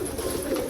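A Rumebazi pigeon near a cage gives a brief, low, throaty coo, close and steady, with no talk over it.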